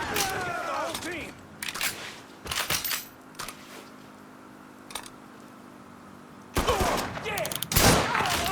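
Gunfire in the video game Mafia III comes in scattered sharp bursts, with loud broadband cracks near the start and a dense volley toward the end, separated by quieter stretches of low game ambience.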